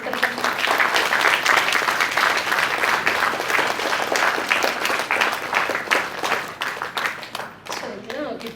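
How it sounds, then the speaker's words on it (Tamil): Audience applause at the Kalai Sangamam 2025 school function, a dense, steady crowd clapping that fills the space for over eight seconds before thinning slightly near the end. "அனைவருக்கும் ஒரு பலத்தை கைத்தட்டு கொடுத்துருக்காங்க"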